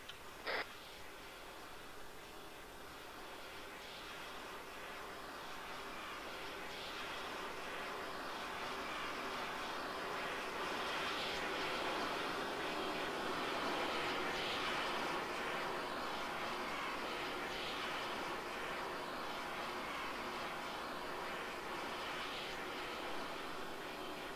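A fixed-wing aircraft comes in to land on a runway during a military training operation, its engine a steady, fairly faint drone that swells gently through the middle and holds to the end, with a brief sharp click near the start.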